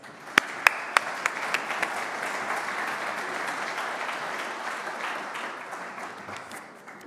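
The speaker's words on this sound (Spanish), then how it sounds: "les pido un fuerte aplauso" An audience at an energy transition forum gives a sustained round of applause, a few sharp individual claps rising at the start before settling into an even, moderately distant wash of clapping.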